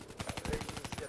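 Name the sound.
laser gun firing in a video game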